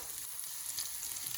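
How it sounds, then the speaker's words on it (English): Onions sizzle and crackle in a hot pan, a steady close frying hiss with small pops, quiet and alone without speech. "I got those onions frying"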